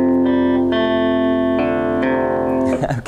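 A distorted electric guitar chord from a song rings out, followed by two plucked bass notes on the fourth and fifth strings, sustained and loud with reverb before a brief scrape at the end.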